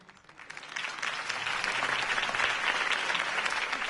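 A crowd in a Batman game scene applauds a political campaign speech, a soft, distant-sounding wash of clapping that swells early and then holds steady throughout.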